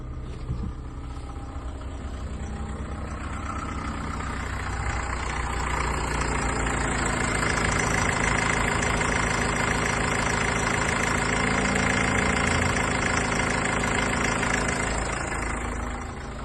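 Cold engine of a 2012 Honda CR-V with 261,000 km idling steadily, a continuous close mechanical hum and rumble that swells slightly midway, with no talking.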